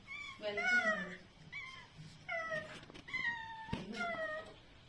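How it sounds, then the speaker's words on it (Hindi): A friendly cat greeting a family at a forest stay near Corbett, India, gives several short, plaintive meows close by, spaced across a few seconds with brief pauses between calls. "एक बिल्ली आई है हम लोगों को हेलो करने के लिए।"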